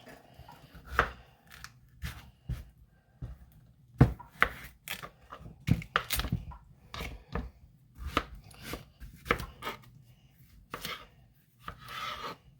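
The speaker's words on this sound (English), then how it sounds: "I'm gonna take off the ends off the zucchini" Knife chopping zucchini on a cutting board, trimming the ends and halving them for a Thai-style sweet chili chicken meal kit: a quick run of sharp, close knocks, irregular in rhythm, with short pauses and no talking.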